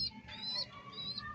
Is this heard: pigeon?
yes